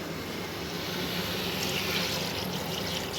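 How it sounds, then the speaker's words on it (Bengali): A little water poured into a pressure cooker holding spiced dal, making a steady, even splashing rush that lasts throughout without pause. "জাস্ট অল্প পানি দেবো।"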